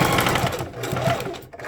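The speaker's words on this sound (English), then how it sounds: "So I'm going to sew it down." Sewing machine stitching a fabric scrunchie, a fast steady mechanical whirr heard up close and alone for the whole brief stretch, slowing slightly near the end.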